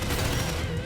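Rapid gunfire from a Type Nambu in a shooting video game, a brief, dense burst of shots fired in quick succession, loud and close for under a second.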